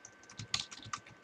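Fingers typing on a computer keyboard in a short burst of soft, irregular key clicks, close but quiet.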